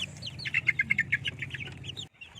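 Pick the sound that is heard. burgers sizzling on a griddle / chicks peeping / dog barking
chicks peeping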